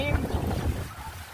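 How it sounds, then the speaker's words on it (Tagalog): Steady gusting wind buffets the microphone with a low, rumbling roar in open farmland in Nueva Ecija, Philippines, and a voice speaks briefly underneath it. "ang lakas ng hangin dito mga kababayan"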